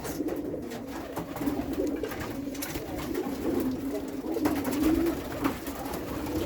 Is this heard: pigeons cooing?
yes